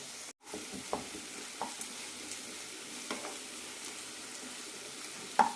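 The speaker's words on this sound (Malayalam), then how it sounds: "തക്കാളി വെന്തടയുന്നത് വരെ വഴറ്റിയെടുക്കാം" Tomatoes are sautéed in a pan for vermicelli upma, a soft steady sizzle with a few faint spatula scrapes and taps, close and alone.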